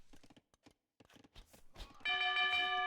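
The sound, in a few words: town bell ringing in a strategy video game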